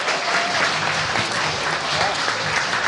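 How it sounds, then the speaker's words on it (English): An audience applauds to welcome a speaker onto the stage at a sales conference, a dense, steady wash of clapping that stays loud and even throughout. "So please give him a round of applause."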